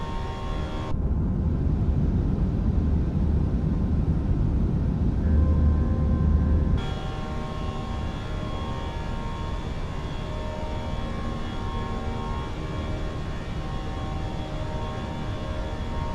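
Fenix A320 engines at climb thrust in Microsoft Flight Simulator 2024, a steady loud jet roar that holds evenly throughout, with a brief broader rush early that cuts away partway through, no talk.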